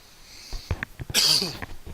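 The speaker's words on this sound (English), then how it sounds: "I've been coughing a lot lately." A few short breaths and a catch lead into one sharp, loud cough or sneeze-like burst, close by, followed by a small trailing huff.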